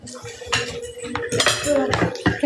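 A spoon clinks and scrapes against dishes at a restaurant table, with several close, bright taps and rattles in quick succession and no talk over them.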